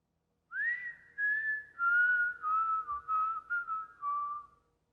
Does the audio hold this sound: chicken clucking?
no